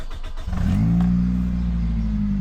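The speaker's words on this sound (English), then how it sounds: "I'm gonna go start the car, which sounds great, by the way." A Mazda Matrix XRS engine cranks and catches, then settles into a steady, deep idle close by.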